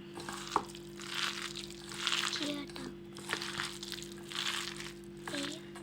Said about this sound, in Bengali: ফ্রাই প্যানে তেল দিয়ে